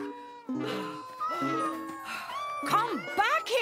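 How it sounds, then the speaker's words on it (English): Cartoon kitten meowing in a children's animated episode, several clear high mews in a row over bright background music, close and fairly loud. "that was firefighter Fred's kitten, Sparky"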